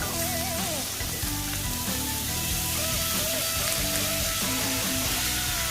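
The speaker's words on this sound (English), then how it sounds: "Once you add your butter" Butter sizzles and fries steadily in a hot pan alongside a steak, a dense continuous crackle at close range with no talking.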